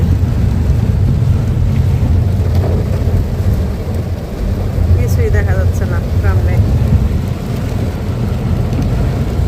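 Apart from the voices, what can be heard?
heavy rain falling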